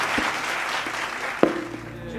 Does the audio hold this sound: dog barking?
no